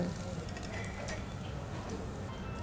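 Potatoes fry in hot oil for Kashmiri dum aloo, a steady close sizzle with faint stirring and no voice over it.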